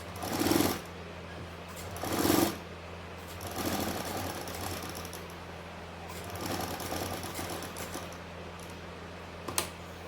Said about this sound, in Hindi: अब मैं आपको मशीन चला दूँगा